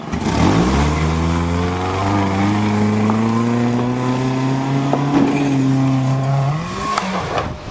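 A 1992 Toyota Corolla with a crude exhaust mod climbs Skyhill at Davidsfarm, and its engine revs hard and steadily close by. The drone holds high under load, then rises sharply near the end.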